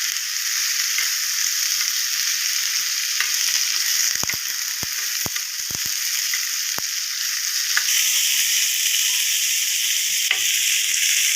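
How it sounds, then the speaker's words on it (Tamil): Curry leaves and onions sauté in a pan for ridge gourd chutney, giving a loud, steady sizzle throughout with a few sharp spatula clicks and scrapes in the middle, no voices. "கருவேப்பிலை வெங்காயம் நல்லா வதங்கணும்"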